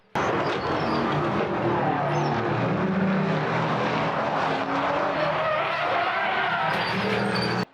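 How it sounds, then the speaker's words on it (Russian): Race cars roar past on a circuit during a racing event, a loud continuous engine din with shifting pitch as cars sweep by, filling the whole clip without speech. "Круг за кругом машины вели ожесточенную борьбу"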